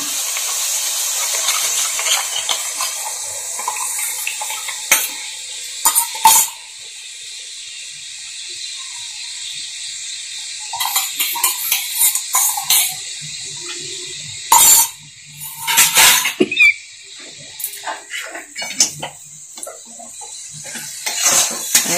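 Spices being fried and stirred in a pot for aloo dum, a hissing sizzle broken by repeated bursts of metal scraping and clanking from a spoon against the pot, close and fairly loud.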